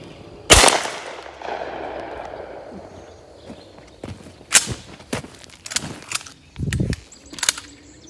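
A 28 gauge shotgun fires buckshot reloads at an outdoor range about 30 yards from the target: one loud close blast early, then a series of sharper, quieter cracks and thumps after a pause.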